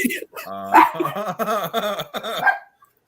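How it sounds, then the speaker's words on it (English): Several dogs bark and yelp in a rapid, repeated series nearby, loud and close. "Please forgive the dogs barking."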